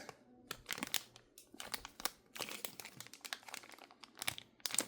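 Plastic wrapping around Beyblade X UX-10 Customize Set parts crinkles up close, a dense run of crackling, rustling bursts with short pauses in between and no talk.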